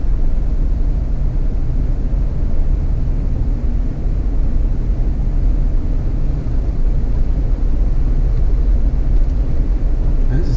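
A Jeep Wrangler JK Rubicon in rear-wheel drive pushes through deepening water on flooded streets, giving a constant loud low rumble and wash that runs steadily without a break.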